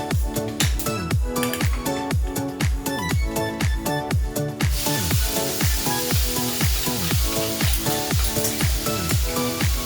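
Ground spice paste drops into hot oil already seasoned with cumin and asafoetida and bursts into a steady sizzle about halfway through, a dense hiss rising under a constant rhythmic musical beat.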